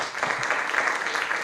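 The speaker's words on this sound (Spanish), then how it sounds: "Un aplauso para el doctor Álvaro." Audience applause for a doctor at a university business faculty event, a steady, dense clapping wash filling the whole short moment at moderate level.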